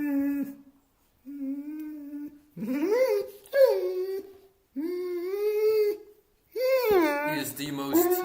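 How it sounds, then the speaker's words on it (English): A dog whines and howls in long, wavering, song-like phrases, several drawn-out calls broken by short pauses, close and loud with no talk over it. "He is the most singing dog that I ever had."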